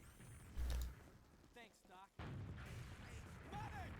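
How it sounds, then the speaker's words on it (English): A single deep gunshot boom from a headshot rings out early in a competitive grand final video game match, followed by quieter game sounds under steady commentator talk. "I heard a headshot ring out"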